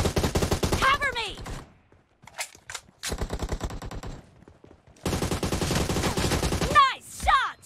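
Bursts of automatic gunfire in PUBG Mobile, rapid rattling volleys in three separate runs with short pauses between, loud and close, with game sound effects mixed in.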